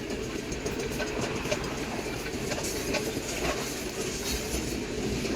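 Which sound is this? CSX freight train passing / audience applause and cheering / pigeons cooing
CSX freight train passing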